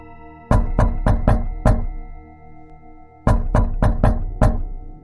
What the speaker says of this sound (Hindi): बाहर से थाप अब तेज हो गई थी।